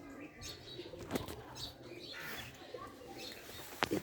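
Birds flapping their wings close by at a house in Nepal, quick fluttering bursts over faint chirps and coos in the outdoor background.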